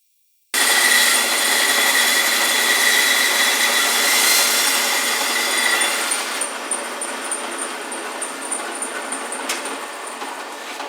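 A saw cuts through plywood in one long, steady pass, loud and close, then the tone shifts and fades as the cut finishes.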